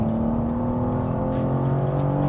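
A 2023 BMW M2 pulls hard at full throttle on an open road, a steady loud engine drone with a rising whir that holds throughout the short stretch, heard without talk.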